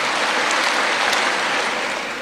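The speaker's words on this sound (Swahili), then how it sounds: "tuwapigieni makofi tafadhali wabunge wenzangu" A large crowd at an AIPCA centenary celebration in Kasarani applauds in a dense, steady wash of clapping that stays full and even throughout, with no voices on top.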